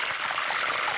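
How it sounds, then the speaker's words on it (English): Marinated pork belly in adobo sauce with vinegar, bay leaf, garlic and black pepper fries in a hot pan at an outdoor food truck festival, a dense, continuous close-up sizzle. "Ooh, sizzle! That is the sound of heaven."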